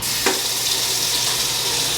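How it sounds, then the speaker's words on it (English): Hot soapy water runs from a tap into a kitchen sink, a steady, close, broadband rush that lasts the whole stretch without pause. "I'm going to fill my sink with some hot soapy water"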